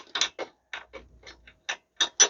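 A ratchet backs out frame bolts on a 125cc motorcycle being stripped down, giving a series of short, close ratcheting bursts with brief pauses between strokes.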